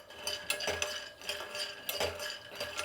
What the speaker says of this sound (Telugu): ముందుగా పల్లీలు వేయించుకుందాం.